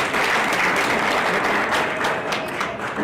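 An audience applauds at a Kimeru Institute gathering, a dense, continuous wash of many hands clapping at moderate distance, with no talk over it.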